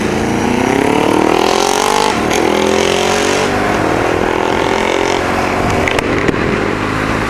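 A Honda Bros 400 roars past on the road close by, its exhaust note climbing and falling through the gears and staying loud across the pass, with wind rush in the background.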